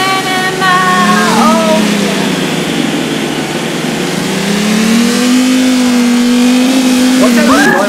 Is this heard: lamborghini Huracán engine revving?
yes